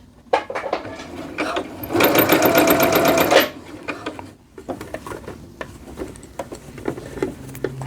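A sewing machine stitches a jogger cuff seam in one loud, rapid burst of about a second and a half, surrounded by quieter handling clicks and fabric rustle.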